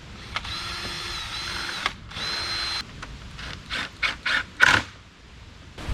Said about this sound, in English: Hold them up here, pre-drill, and get the screws in.